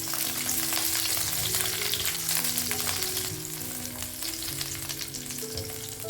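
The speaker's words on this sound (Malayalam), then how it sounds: "അതിൽ തന്നെ ഒരു 12 ചെറിയ ഉള്ളി ഇട്ട് കൊടുക്കാം. അതും എന്ത് ചെയ്യുക, ഇതേപോലെ ഒന്ന് വാട്ടിയെടുക്കാം." Twelve small onions sautéing in oil in a pan while making Kerala-style chammanthi, with a steady loud sizzle, occasional stirring and no talking.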